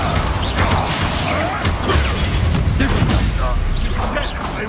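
A Bombarda blasting spell goes off in Hogwarts Legacy, loud crashing blasts and impacts repeating amid chaotic combat effects and scattered voices.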